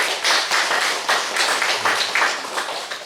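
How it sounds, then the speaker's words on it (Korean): Church congregation clapping together to congratulate three newly blessed families at a blessing ceremony; steady, fairly loud massed handclaps with no talk over them. "이렇게 귀한 축복 가정으로 거듭난 세 가정을 위해서도 축하의 박수 한번 보내주시면 좋겠습니다."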